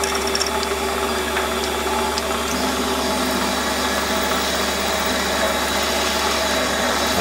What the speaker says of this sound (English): I suppose you would consider this to be deep drilling.